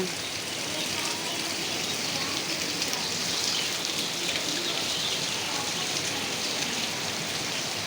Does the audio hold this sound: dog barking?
no